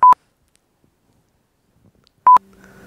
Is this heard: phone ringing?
yes